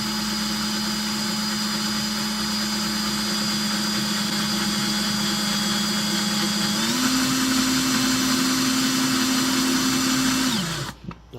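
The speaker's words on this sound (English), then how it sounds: "let's drill." A power drill whines steadily at close range, drilling into a metal Remington 700 rifle part, its pitch stepping up partway through before spinning down and stopping near the end.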